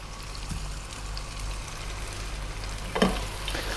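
Tomatoes frying with turmeric and green cardamom powder in a pan, a low steady sizzle with light stirring and one brief louder scrape or clatter near the end, no talk.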